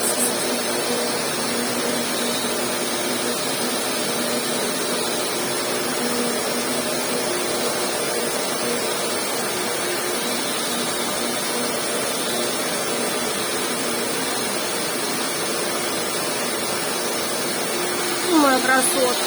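A household vacuum cleaner runs continuously indoors near a cat, a loud, even whooshing drone that barely changes, with a brief clatter near the end.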